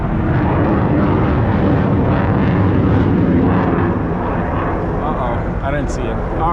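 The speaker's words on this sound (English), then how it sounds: "Not before we see this fighter jet that is" A fighter jet flies overhead with a loud, sustained broadband roar that fills the whole stretch, swelling slightly in the middle before easing off.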